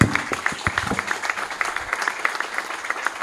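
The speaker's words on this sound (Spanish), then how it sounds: "Vamos a dar un aplauso a todo el equipo que presentó hoy acá." Audience applause for a presenting team at a small-arms simulation systems presentation: a steady patter of many hands clapping at moderate volume, sustained throughout with no talk over it.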